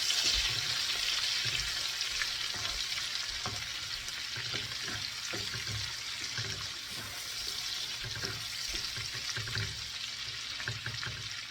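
Asafoetida and ginger-garlic paste fry in hot butter and oil for pav bhaji, a steady close sizzle with occasional spoon stirs and scrapes throughout, no talking.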